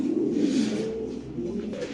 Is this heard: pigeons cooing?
yes